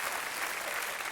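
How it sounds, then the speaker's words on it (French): Audience applause in a television studio, a dense, continuous burst of clapping filling the short moment at moderate loudness. "Je crois que rien que pour ça, bah, on peut vous applaudir."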